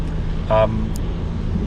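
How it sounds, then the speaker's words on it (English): Steady low rumble of road noise inside a moving Volkswagen T-Cross, with a brief tonal blip partway through. "A little bit of road noise that comes in at those speeds."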